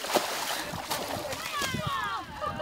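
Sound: water spraying from holes on a skim slide

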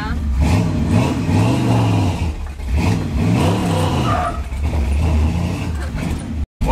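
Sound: 1966 Chevy C10 truck engine revving for a burnout

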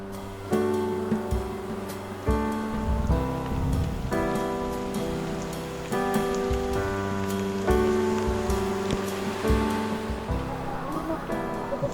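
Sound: rain during monsoon season

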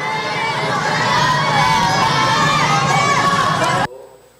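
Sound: children shouting slogans from school windows

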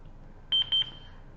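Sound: Boxlight CH-30W classroom speaker microphone pairing alert tone

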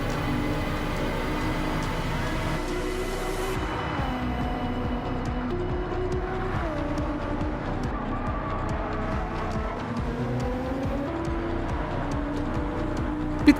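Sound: race car engine in Gran Turismo 7 video game

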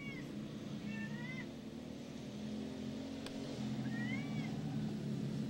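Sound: cat meowing

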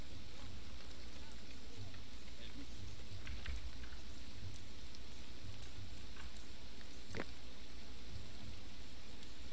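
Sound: spring rain in the video game Dawn of Man

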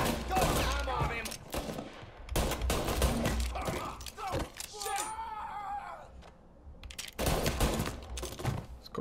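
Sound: gunfire in the video game Mafia

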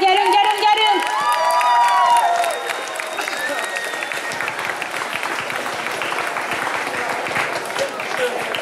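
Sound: audience applause at cosplay show

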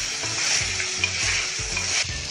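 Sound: frying garlic paste with kasuri methi in a pan

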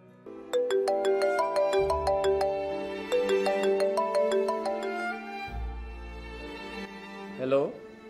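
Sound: telephone ringing during a call

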